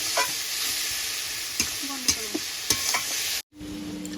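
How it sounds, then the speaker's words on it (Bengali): A ground spice paste with cashew frying in oil on a low flame while being stirred for doi katla, a steady close sizzle broken by scraping strokes, then a brief cut to quiet before the sizzle returns. "সেটা এবার আমি তেলের মধ্যে দিয়ে এবার এটাকে আমি সুন্দরভাবে কষিয়ে নেব আস্তে আস্তে জাল দিয়ে।"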